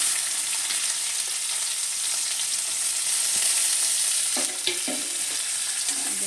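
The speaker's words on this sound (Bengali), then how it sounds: "এখন দিচ্ছি রসুন কুচি।" Chopped garlic fries lightly in oil with cumin seeds, a continuous close sizzle with a few scraping stirs near the end and no talking.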